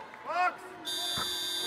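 An electronic buzzer sounds at a wheelchair basketball match between Poland and Germany at the 2012 London Paralympics, holding a sustained tone under excited commentary as the crowd noise rises.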